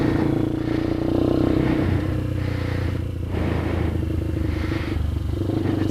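A Kayo MR150 motorcycle engine fitted with a Smartcarb runs close by without choke, a loud steady idle with a throbbing, clattery rhythm and slight rises in revs.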